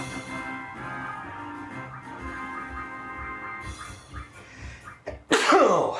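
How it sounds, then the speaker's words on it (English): A single sharp sneeze bursts out near the end, after a stretch of quiet background sound. "Sneeze."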